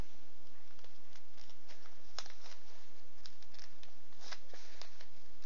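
Scissors cut through a single sheet of printed newspaper up close, giving a steady run of crisp snips and soft paper rustling with no talking.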